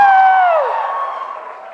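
Audience at a keynote address gives a loud, excited whoop that falls in pitch and fades into a softer crowd murmur.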